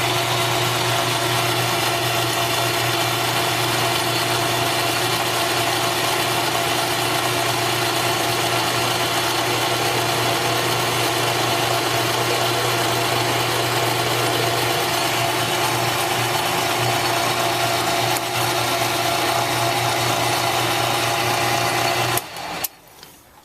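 A drill press runs steadily for a long stretch, a constant motor hum and grinding whine, stopping abruptly near the end.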